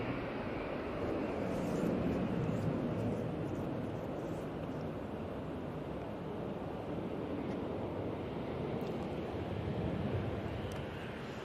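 A Ryanair jet departs Manchester Airport in windy weather, its broad steady roar filling the whole stretch at moderate distance, buffeted by wind noise on the microphone, with no talk.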